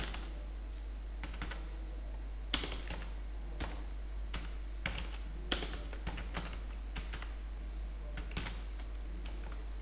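Fingers type a line of Java code on a computer keyboard, irregular close-up key clicks with a few sharper taps, all over a steady low hum and without any talking.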